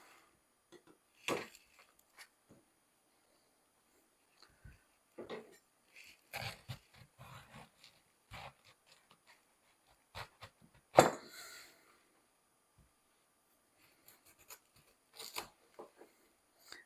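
A grocery store cabbage is cut up in a kitchen, giving scattered crisp crunching and knife-on-board thuds at an irregular pace, close and fairly quiet.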